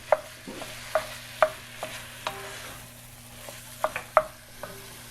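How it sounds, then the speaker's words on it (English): Ground turkey cooking in a pan for turkey chili, with a soft frying hiss beneath repeated sharp scrapes and taps as a spoon stirs and breaks up the meat, about a dozen irregular strokes, near and fairly quiet. "I'm just going to keep stirring this and continue breaking this up with my spoon."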